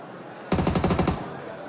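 Rapid automatic gunfire from a pre-fire in the mobile battle-royale game PUBG Mobile: one loud, close burst of about a dozen quick shots lasting under a second, then a short fading tail.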